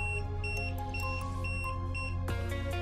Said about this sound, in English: this meter popping up and this buzzer, it's mean there is supply available.